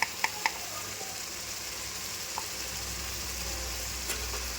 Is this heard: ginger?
yes